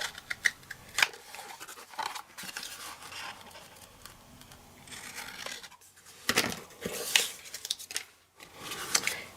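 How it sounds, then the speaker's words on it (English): A box panel being cut by hand, a series of faint crisp snipping and slicing strokes in irregular bursts with brief quiet gaps, close and alone with no talk. "I'm just going to cut that by hand"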